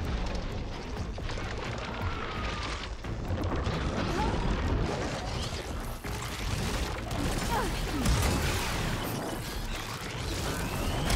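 Dense, continuous rumbling blasts and booms from explosions in the game Horizon Forbidden West: Burning Shores, loud throughout, with voices talking faintly underneath.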